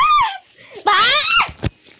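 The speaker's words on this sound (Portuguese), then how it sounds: "Para de gritar!" Someone screams loudly, playing a game, in two long shrill bursts with a short gap between them, close and piercing, with a bit of giggly vocal noise after.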